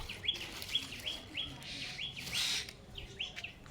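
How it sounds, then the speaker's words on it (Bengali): Small birds chirp in a garden among guava and dragon fruit plants, giving a string of short repeated tweets, faint and somewhat distant against quiet background. "পাখিগুলো আবার দিতেছে"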